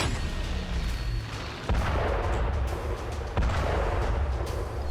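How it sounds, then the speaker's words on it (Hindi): Russian towed artillery cannon fires, heavy booms landing at regular intervals over continuous loud outdoor rumble, no voices. "ये साधारण से दिखने वाली तोप रूस का नया हथियार है।"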